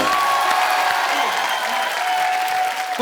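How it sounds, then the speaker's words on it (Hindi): A studio audience on a TV comedy show breaks into loud, sustained applause, a dense wash of clapping with a faint voice over it. "जोरदार तालियां हो जाए एक बार"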